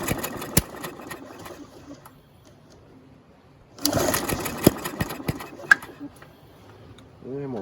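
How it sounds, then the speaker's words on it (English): A push mower engine sputters and runs unevenly, with sharp backfire pops through the carburetor breaking through the rough mechanical chatter. "Sound like we're backfiring through the carburetor."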